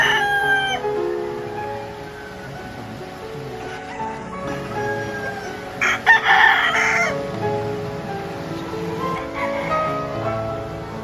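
Roosters crowing amid a crowd at a cockfighting arena, several long tonal crows overlapping one another against a busy murmuring background, with a louder burst of noise midway.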